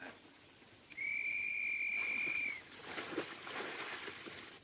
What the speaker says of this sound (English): There's Tyne's whistle right on the nose.